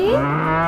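A single cow moos loudly and close by, a short low drawn-out bellow.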